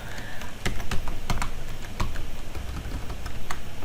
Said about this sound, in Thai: พิมพ์ชื่อโฟลเดอร์เป็นภาษาอังกฤษเท่านั้นนะคะ